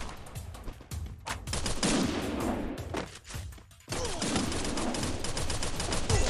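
Rapid bursts of automatic gunfire in a shooting video game, loud sharp volleys broken by short pauses, then a dense sustained stretch of firing.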